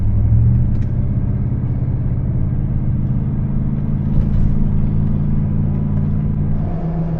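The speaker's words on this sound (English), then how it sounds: "Driving along the highway to get to the trailhead definitely feels like home." A car cruises along a highway toward a trailhead in the Great Smoky Mountains, giving a steady low engine and road rumble heard from inside, constant and unbroken throughout, with no talking.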